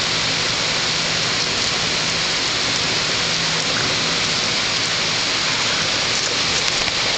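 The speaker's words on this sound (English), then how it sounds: "Rainy days." Steady rain falls on a rainy day outdoors at Outlaw, a dense, even hiss of drops that holds at the same loudness from start to finish with no voices.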